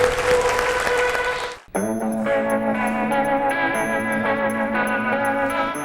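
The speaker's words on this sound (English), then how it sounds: "Can we give a round of applause for our Dragon's Den?" Audience applause closes a Zero Waste Challenge conference session, a steady wash of clapping that fills most of the clip after a short burst of sound and a brief break.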